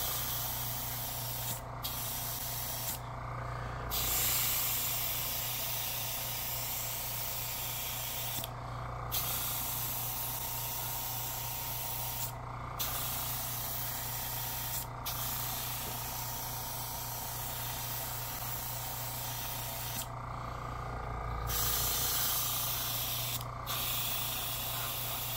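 An airbrush sprays paint onto a B-25J Mitchell scale model in long continuous hissing bursts, broken by a few short pauses, close and steady with no speech.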